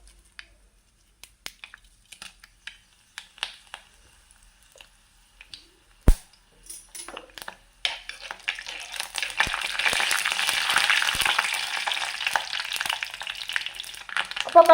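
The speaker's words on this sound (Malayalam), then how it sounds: "ഇനി അതിലേക്ക് നമ്മൾക്ക് 1/4 ടീസ്പൂൺ കടുക് ചേർത്ത് കൊടുക്കാം. അപ്പോൾ അതിൻ്റെ കൂടെ തന്നെ 2 വറ്റൽമുളകും പൊട്ടിച്ച് ചേർത്ത് കൊടുക്കാം." Mustard seeds and two broken dried red chillies hit hot coconut oil for a snake gourd thoran, starting with scattered clicks and taps, then a steady loud sizzle and crackle of frying that carries on alone to the end.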